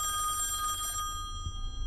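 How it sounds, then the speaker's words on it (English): An old telephone bell rings inside the horror video game Song of Horror, one steady ring lasting about a second before it cuts off, leaving a low hum. No talking is heard. "Who could be calling? Why would I pick up the phone?"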